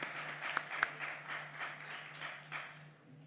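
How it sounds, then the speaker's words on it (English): Audience applause closing a conference panel session at an international policy forum, a soft, steady spatter of clapping across the room with a couple of sharper claps early on, moderately distant and fading slightly toward the end. "a round of applause, please"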